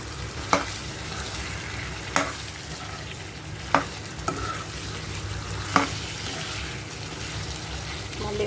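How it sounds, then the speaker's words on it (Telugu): Chicken being stirred with ginger-garlic paste in a frying pan, a steady sizzle running underneath with a few sharp utensil scrapes and clinks at irregular intervals. "చికెన్ మొత్తం పట్టేలాగా ఇలా కలుపుకోవాలి అల్లం వెల్లుల్లి పేస్ట్ని."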